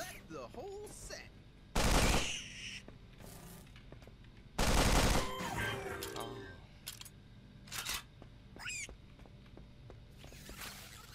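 Gunfire in the game Sword of the Stars: The Pit comes as two loud bursts of shots, with shorter clicks and clanks in between and someone talking throughout.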